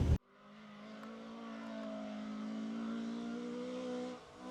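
A rally car pulls away hard at the Algoa National Rally in 2024, its engine note rising steadily and holding a loud, sustained roar close to the microphone for several seconds, then easing at the end.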